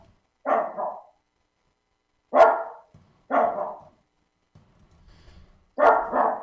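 A dog guarding its yard barks at passers-by in four loud bursts, single and double barks separated by silences, with faint low rustling between them.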